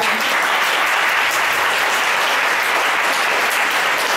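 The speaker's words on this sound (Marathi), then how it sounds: "त्यांचं टाळी वाजवून स्वागत करूया" Dense, sustained applause from a school audience welcoming a new teacher in an assembly hall, loud and even throughout with no talking over it.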